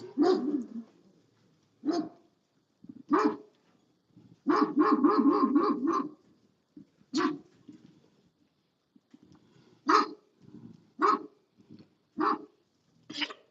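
A dog barks repeatedly in short, loud bursts, with one longer rapid volley of barks in the middle, spaced irregularly with quiet gaps between.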